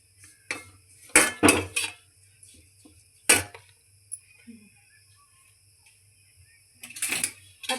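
Dried coconut being scooped out of a pan onto a plate: a few sharp metallic scrapes and clinks of a utensil against cookware, clustered early and again at the end, close and fairly loud against a quiet room.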